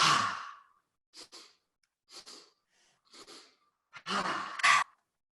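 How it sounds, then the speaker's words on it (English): Rhythmic breathwork: a long sigh-like exhale followed by a series of short, sharp inhales and exhales in quick bursts, close and breathy with silence between, ending in two stronger breaths. "Inhale, inhale, inhale, exhale, inhale, inhale, inhale, exhale."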